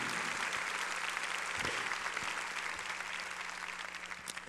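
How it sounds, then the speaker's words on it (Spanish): Church congregation applauding during a sermon, a steady dense wash of clapping that holds at an even level, with a low constant hum underneath. "Démosle un aplauso al Señor."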